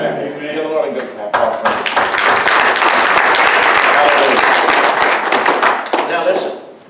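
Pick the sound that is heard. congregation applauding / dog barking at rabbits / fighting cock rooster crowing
congregation applauding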